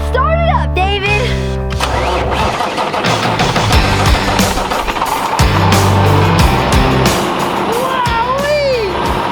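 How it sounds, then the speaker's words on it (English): A 430 horsepower Cummins engine in a big dump truck starts up into a loud, heavy rumble, with overlapping tonal sounds and voices over it. "This is a 430 horsepower Cummins engine, baby."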